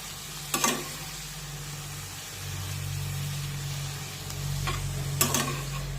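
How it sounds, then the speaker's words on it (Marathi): Methi matar malai vegetables sauté gently on a low flame, with a soft continuous sizzle and a few brief scraping stirs of a spoon. The sound is close and quiet, and there is no talk. "आता मंद आचेवर 2 ते 3 मिनिटे ही भाजी छानपैकी परतून घेऊया।"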